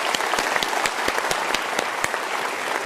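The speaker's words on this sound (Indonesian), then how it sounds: "Kita berikan tepuk tangan untuk jawaban Anda" Studio audience applauding on a televised motivational talk show, a steady, dense patter of many hands clapping at moderate loudness for about three seconds, with no talking over it.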